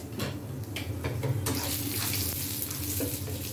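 Crushed red chilli and ginger garlic paste sizzle in a pan for halwa puri style chole, a loud, steady frying hiss that swells after a few soft stirring knocks.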